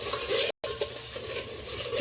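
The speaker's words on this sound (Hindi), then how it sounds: "फिर आधी मिर्ची डाल के फिर भून लेंगे अच्छे से।" Chopped onion and green chili sautéing in a pan for kadhi, a loud close sizzle with clattering stirring strokes, broken by a brief silent gap.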